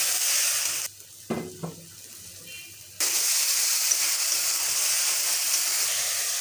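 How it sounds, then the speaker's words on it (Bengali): Ginger sizzles loudly in a hot pan. Water poured in cuts the hiss briefly with bubbling and a few clunks, then the frying hiss returns strongly and carries on, close up with no talking. "আদাটা একটু ভেজে নিয়ে আমি জল দিয়ে দিচ্ছি"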